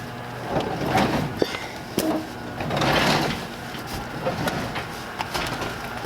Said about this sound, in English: This is how I have to open up my garage every day.